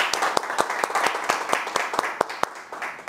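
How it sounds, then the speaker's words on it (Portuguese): Sparse, separate hand claps from a small group in a Brazilian legislative chamber, a few sharp claps landing irregularly over a quiet background. "Schneider, os aplausos."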